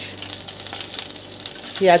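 Slit green chillies frying in fish oil give off a close, bright sizzle that holds steady, with a brief tonal sound rising near the end.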